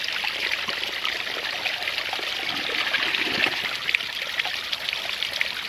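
Water running off a rock beside a micro hydro intake, a close, steady trickling and splashing stream with bright bubbling detail, continuous and unaccompanied by talk.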